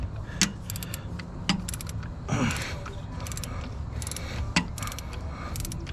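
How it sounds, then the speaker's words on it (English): Deep socket wrench working an injector nut on a 2000 Ford F-250: quick ratcheting clicks in short bursts with a few sharper metallic taps, close over a steady background hum, no talk. "let me try the deep socket again"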